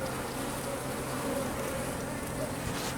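Honeybees buzz in a dense, steady drone around an open hive while a frame is lifted and inspected. The hum is continuous and close and fills the whole clip, with no talking.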